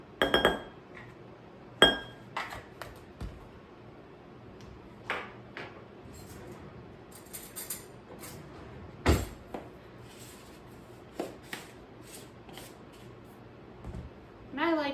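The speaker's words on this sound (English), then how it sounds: "I like using a fork to help stir up the cornstarch, so just get it nice and broken up here." Fork stirring cornstarch in a glass dish, heard as sparse, sharp clinks of metal against glass spread across a quiet kitchen, close and clear, with a few softer taps between.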